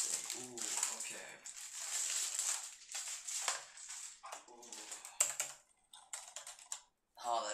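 Typing on a Corsair Strafe RGB MX Silent mechanical gaming keyboard, with close, rapid bursts of muted clicking keystrokes broken by short pauses.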